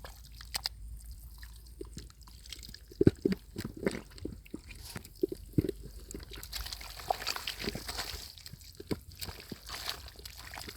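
Water is stirred and sloshed while fish are caught by hand in a jar or tank, with irregular splashes, trickles and dribbles close by, moderately quiet with scattered sharper splashes.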